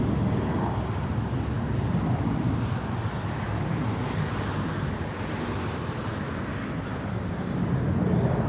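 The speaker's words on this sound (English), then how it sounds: "here comes the very fancy-looking exec jet. It's a Gulfstream" A Gulfstream business jet at LAX makes a steady, broad roar that holds at an even level throughout, with a wind-like rush and no talk over it.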